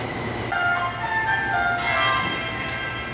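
A Tokyo subway Mita Line train interior hums steadily, with a rising electric motor whine and tonal chimes as the train gets underway, no talking.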